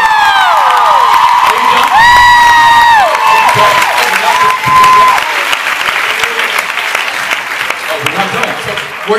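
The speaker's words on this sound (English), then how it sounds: "I just wanted you guys to cheer for us." A convention panel audience cheers, whoops and applauds loudly, with high shrieks and screams early on, then settles into sustained clapping and crowd noise while a voice speaks over it.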